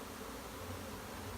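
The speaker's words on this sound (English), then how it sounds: "Bees are just flying in circles" Honeybees from a newly installed package fly in circles around their hive, making a dense, steady buzzing that fills the whole moment without a break.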